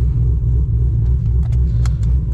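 Cammed C6 Corvette V8 idling close by, a loud, choppy low rumble with a lumpy uneven pulse, alone without talk.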